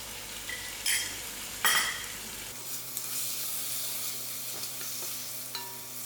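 Tomatoes and salt cooking down in a pan for a broad beans curry, with soft sizzling, a couple of sharp utensil scrapes early on and light clinks later, close by and without speech.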